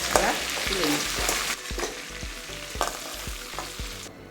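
Chicken drumsticks fry in a pan with a loud, dense sizzle and crackle, broken by a few stirring scrapes, close up with no talking.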